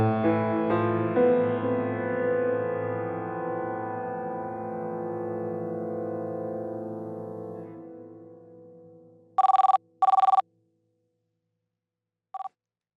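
A telephone rings in a home in a Hindi family drama: two short electronic ring bursts close together, then a brief third one, following a long fading musical tone.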